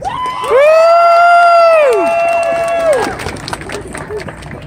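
A crowd at a Take Back The Night 2018 event at Brockport erupts in loud cheering and whooping for a student speaker, with high sustained shouts and applause that taper off after a few seconds.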